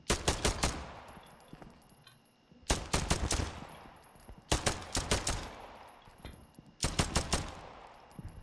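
Four bursts of rapid pistol fire in the video game Operator, each a quick cluster of sharp shots separated by short pauses, loud and close with no talking.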